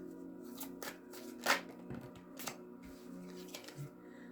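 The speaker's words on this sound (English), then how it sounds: "let's pull a card for Virgo from the Soul Truth Self-Awareness card deck" A Soul Truth Self-Awareness card deck is shuffled by hand. Soft, riffling card noise comes in several short bursts, with one fuller ruffle near the middle, close and fairly quiet, with no talking.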